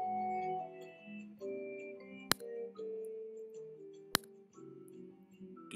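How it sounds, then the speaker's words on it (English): A torque wrench tightens the mold clamp bolt on an Engel injection molding machine, giving two sharp, isolated clicks a couple of seconds apart over a quiet background of sustained tonal hum. "Torque down the bolt holding the clamp in place until you hear and feel the break."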